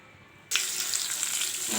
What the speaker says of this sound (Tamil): வரமிளகா சேர்க்கலாம். சும்மா லைட்டாக வதக்கினா போதும்